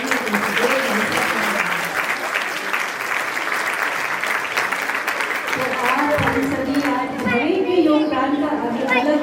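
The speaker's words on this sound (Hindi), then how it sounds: "ताली बजाने" An audience claps at a building inauguration ceremony, with dense sustained applause filling the room and people chattering and talking over it throughout.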